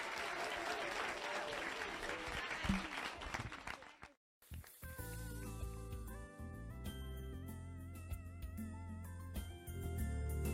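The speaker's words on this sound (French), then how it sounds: "Sous vos applaudissements" Audience applause at a Caribbean Christmas song contest, the Noël Caraïbes podium, a few seconds of crowd clapping that stops briefly before a song with instruments begins and fills the rest.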